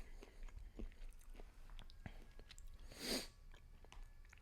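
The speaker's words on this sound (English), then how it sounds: "my chewing is like really obnoxious" A person bites into and chews a banana close to the mic, giving soft, wet mouth sounds with sporadic small clicks and one louder squelch, all fairly faint and with no speech.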